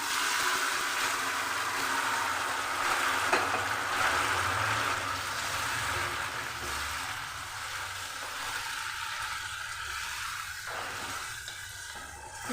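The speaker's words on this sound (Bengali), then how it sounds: "মাটন দিয়ে আমি খুব ভালো করে কষে নেব" Mutton frying in a pan with onions and cardamom for doi mutton, a soft continuous sizzle with light stirring throughout, fairly even and moderately close, with no talking.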